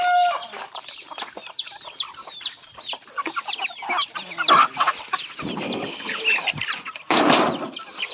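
A flock of Rhode Island Red hens clucks and chatters continuously nearby, with rustling and a few louder squawks mixed in.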